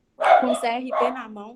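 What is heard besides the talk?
dog barking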